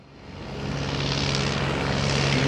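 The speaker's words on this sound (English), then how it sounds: "they presented this Beech T-34 Mentor and the Booker Jungmann, two classic training aircraft looking pristine in their Spanish Air Force colors" Propeller engines of a Beech T-34 Mentor and a CASA-built Bücker Jungmann, classic training aircraft in Spanish Air Force colors at an air festival, produce a steady droning hum that swells and holds loud, with no talk.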